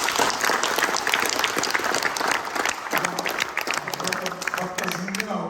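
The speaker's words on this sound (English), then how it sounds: "Let's give them another round of applause." A church audience claps in steady, moderately loud applause for several seconds, the clapping thinning slightly toward the end while voices can be heard talking beneath it.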